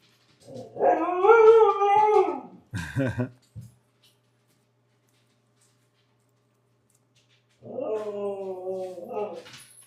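Dogs in a home cut loose with a long wavering howl and a few yips, then fall quiet before another drawn-out howl starts, loud and near.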